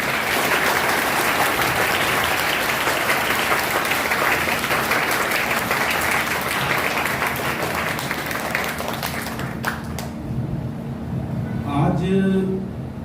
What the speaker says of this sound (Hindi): सो एक बार जोर से तालियां हो जाए।